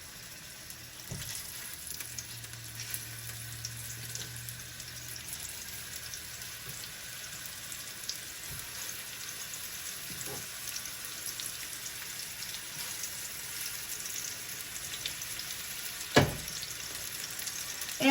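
Meatballs frying in hot oil in a pan for a family spaghetti recipe, a steady close sizzle with a few faint clinks and scrapes and no talking.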